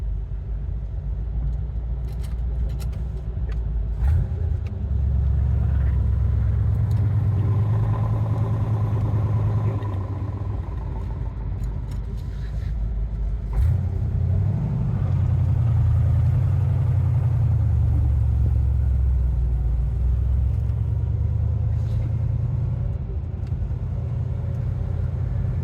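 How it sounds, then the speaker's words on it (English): A 1949 Olds Rocket 88 hotrod with a 409 engine, dual quads and side pipes rumbles steadily from inside the car, its Muncie transmission whining as the engine note rises and falls through two pulls. "I love the whine of that Muncie. Sounds so good."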